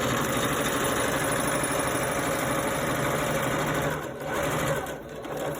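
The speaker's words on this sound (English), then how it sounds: "just hold it with your fingers and sew all the way down to the corner." A domestic sewing machine stitches down a fabric face mask in a fast, continuous mechanical whir, with two brief dips as the stitching slows, and no talking.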